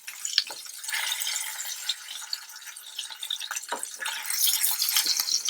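Tuna searing in a very hot pan, a steady bright sizzle and crackle of frying with a few stirring scrapes, moderately close and unbroken, no voices.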